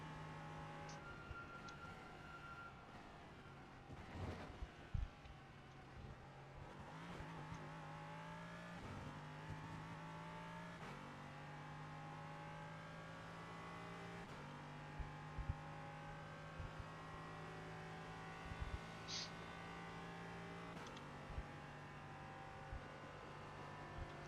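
Porsche race car engines drone and shift through the gears in the iRacing sim, a steady mid-level whine stepping up in pitch with small clicks and bumps, no talking over it.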